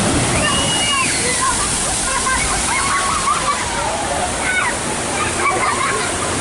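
A boat on the Jurassic Park River Adventure water ride at Universal's Islands of Adventure, Orlando, drops and splashes down, making a steady wash of rushing, churning water. It is heard from some distance, with faint crowd voices and shouts mixed in.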